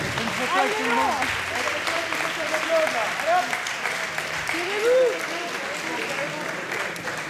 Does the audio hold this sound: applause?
yes